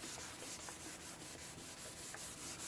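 Sanding a painted panel by hand, a steady close scratchy rubbing with a soft regular back-and-forth rhythm of strokes, heard alone without talk.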